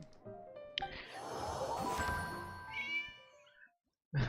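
A cat meows in a drawn-out, wavering cry, fairly close but soft, followed by a short thump at the end.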